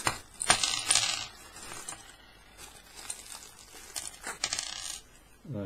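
Small metal screws and nuts tip out of a bag onto a surface in a few quick clinking, jingling bursts, mixed with the crinkle of the plastic bag being handled.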